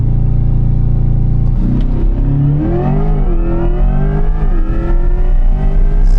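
Corvette E-Ray launching hard off the line: a low idle rumble bursts into a loud, rising engine roar that climbs steeply through the gears with brief shift dips, sustained and close.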